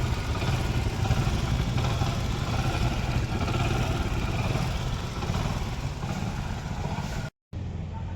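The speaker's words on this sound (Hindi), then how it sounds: "देखिए बाइक का इंजन बन चुका है। अब इसको स्टार्ट कर दिखाएंगे आप लोगों को।" A rebuilt Hero Honda Splendor motorcycle engine runs at a steady idle, a close, even chugging that continues almost throughout and cuts out briefly near the end.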